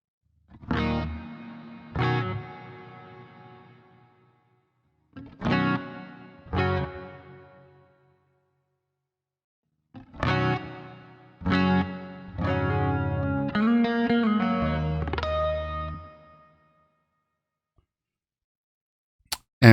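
Electric guitar through a BOSS GX-100 processor on its small and large room reverb settings: strummed chords and single notes in bursts separated by pauses, each ringing out with a short roomy tail before fading.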